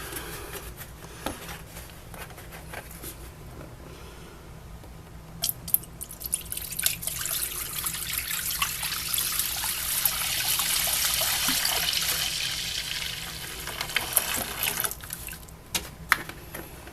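Cleaning solution poured from gallon jugs into an ultrasonic cleaner for brass: a steady, gentle stream of liquid that swells to a fuller rush midway, with a few knocks and drips at the start and end, and no talk.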